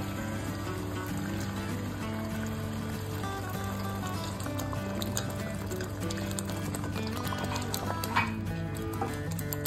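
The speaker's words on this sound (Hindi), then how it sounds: "अब मैं इसमें 1 कप जो है पानी का शामिल" Water pours into a kofta curry masala in a home kitchen, a steady, moderately quiet wash of liquid over a constant background hum, with no talking.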